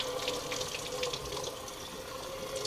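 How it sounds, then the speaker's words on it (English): A kitchen faucet runs steadily into a sink while goose meat is rinsed under the stream, a close, continuous splashing wash of water with no talk. "One of the last things I'm going to do is just give it another rinse."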